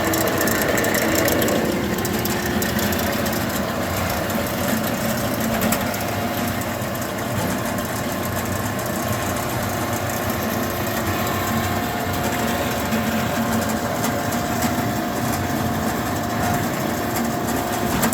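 A W.F. Wells W-10-2 fully automatic dual column horizontal bandsaw runs with a steady mechanical whine and hum, its motor and blade drone holding constant throughout with no talk.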